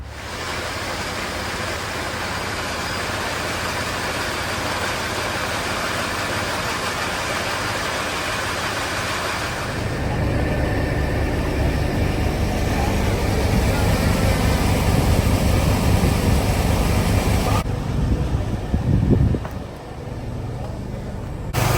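Grain auger running on a farm while loading oat feed for cattle, a loud, steady mechanical roar and rushing of grain that deepens and swells partway through, then drops and shifts near the end.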